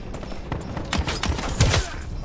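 Rapid bursts of gunfire in the Black Ops 3 video game, several loud overlapping shots packed into a couple of seconds, close and dense without speech.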